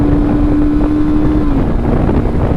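An SM Sport SM3 cruiser motorcycle engine drones steadily at high revs, around 7000 rpm in second gear, its pitch holding then dropping slightly as it shifts, with wind rushing past.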